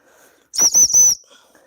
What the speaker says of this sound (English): I've got a whistle on me